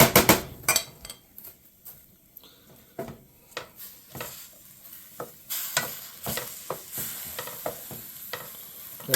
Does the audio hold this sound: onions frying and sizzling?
yes